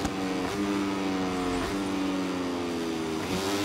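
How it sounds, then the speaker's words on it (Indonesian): Moto3 racing motorcycle engine in the MotoGP 24 racing game, a loud, continuous high-pitched buzzing whine that holds steady and then rises sharply as it revs up through gear changes roughly every second. "Suaranya lucu ya guys ya, kalau misalkan Moto3 ini guys."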